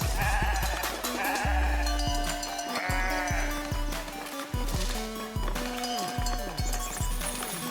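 Sheep bleating in the farming game Foundation, repeated calls layered over steady music and busy game ambience, with faint hoof-like clip-clop.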